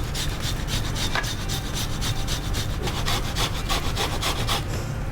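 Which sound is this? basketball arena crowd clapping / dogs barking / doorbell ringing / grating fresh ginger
grating fresh ginger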